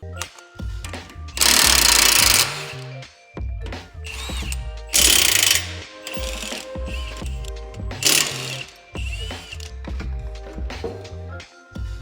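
Power ratchet or impact tool bursts while removing a car's steering knuckle assembly with brake caliper and rotor attached, during a rebuild of a totaled Mitsubishi Evo Final Edition; loud, repeated rattling bursts separated by gaps of clanking and mechanical work.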